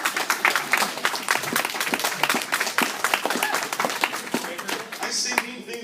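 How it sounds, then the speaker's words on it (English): Convention panel crowd at an anime con clapping in uneven bursts, with laughter and chatter mixed through the lively, rising and falling applause. "I say mean things to young people and you clap"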